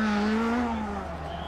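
Rear-wheel drive rally car at Rallye Monte Carlo sliding wide on the road, a loud near engine note falling in pitch as the car passes and fades, with a commentator speaking over it.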